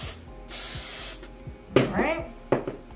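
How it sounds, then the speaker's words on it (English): Got To Be hair spray from an aerosol can sprays in two close, steady hissing bursts, the first long and the second shorter, with brief voice sounds following near the end. "So now I'm taking my Got To Be spray"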